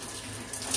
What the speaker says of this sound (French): Là, je vais rincer.